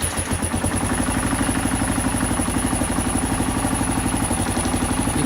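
A 1999 Kawasaki KLR 650 motorcycle engine runs steadily at idle with a rhythmic, thumping pulse, loud and close, with a high whine above it and no talking.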